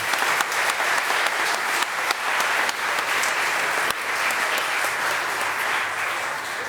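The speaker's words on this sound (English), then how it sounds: "could we please have a great applause for that?" An audience at a Ukraine fundraiser inside an Episcopal church claps loudly and steadily. A dense, continuous round of applause fills the room, with a few sharper claps standing out near the start.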